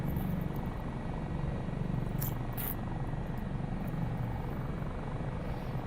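A helicopter in Microsoft Flight Simulator 2024 drones steadily with a low rotor and engine hum, constant and fairly close, with no one speaking and two brief high clicks partway through.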